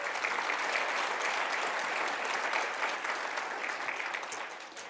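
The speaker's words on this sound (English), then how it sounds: "Give yourselves a round of applause." Sustained applause from a congregation at a church Sunday service, dense and steady throughout before tapering slightly at the end.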